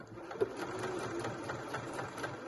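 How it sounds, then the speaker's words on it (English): Sewing machine back stitching at the start of a dress seam, a steady, even, moderately quiet run of rapid stitches with a faint click near the beginning. "So I'm just going to do a little back stitch to begin with."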